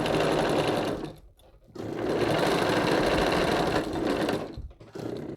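Sewing machine back-stitching across a seam of a quilt storage bag, loud close whirring bursts that stop twice briefly as the direction reverses.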